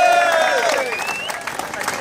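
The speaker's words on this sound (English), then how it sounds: "Give yourselves a big cheer before we send you on your way." Crowd of marathon runners at the Wolverhampton Marathon start line cheering and clapping, a loud, dense roar of applause and shouts with whistle-like yells rising over it, continuous throughout.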